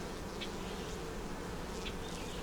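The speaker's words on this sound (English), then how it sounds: "I'm getting my bee from up here." Bees buzzing around a double-deep nuc hive, a steady close drone with individual insects flitting past, no voices over it.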